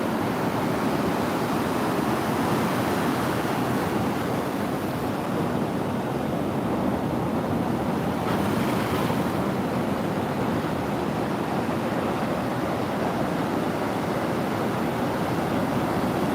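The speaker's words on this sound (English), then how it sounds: "there's some pretty big waves" Big ocean waves breaking on a beach at sunrise, a steady, dense wash of surf roaring continuously and evenly throughout, heard alone without voices.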